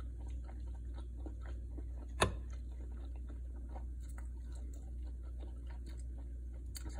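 Someone chews a bite of spicy Filipino longanisa sausage with eggs for breakfast, giving soft, moist, irregular chewing sounds close to the mic, with one sharp click partway through and no talk.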